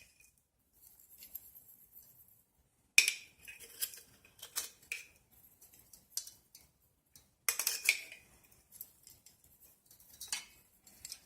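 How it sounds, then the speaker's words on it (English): Metal spoons tapping and scraping over a rack of ribs, soft scattered clinks in two clusters with faint ticking between them, close and quiet in an otherwise silent kitchen. "just take a couple spoons like this, just kind of sprinkle over it"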